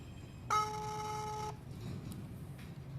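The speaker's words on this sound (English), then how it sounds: "As you can see, it's calling. And you can hear the beep from here." An incoming-call ringing beep from a Zeblaze GTS smartwatch: one steady, bright electronic tone lasting about a second, then cutting off and leaving a low background hum.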